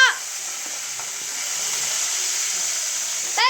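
Curry leaves and green chillies hit hot oil for upma, a loud, bright, steady spluttering hiss close by, with brief voice-like sounds at the start and end.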